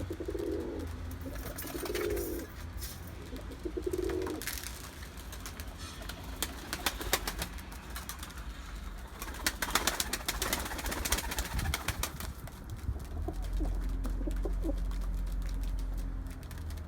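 Pigeons coo in a few low, throaty bursts early on, then fall quiet under steady rustling and background noise.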